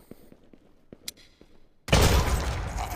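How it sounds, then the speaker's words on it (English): A grenade detonates in a VR tactical assault shooter game, a sudden loud blast with a long rumbling roar that follows a few faint clicks and taps. "I'm gonna try to take this one with a grenade"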